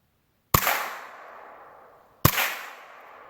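Two sharp, loud gunshots from a stock Ruger 10/22 rifle with iron sights, fired outdoors at a tin can target 25 yards away, each crack followed by a long decaying echo, spaced about two seconds apart.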